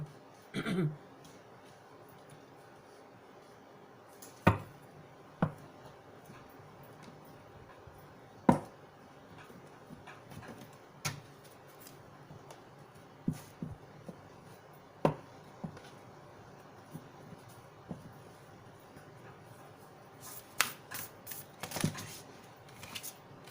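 Faint, scattered card sounds from a tarot reading: soft slaps and brisk riffles of cards being shuffled and drawn at irregular intervals, with a quick flurry near the end, in a quiet room.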